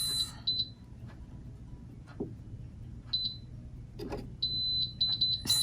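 Beeps from an Instant Vortex 6-quart 4-in-1 air fryer as it starts, a few short high tones spaced across the moment and then a quick run of chirps, standing out over a faint background hum.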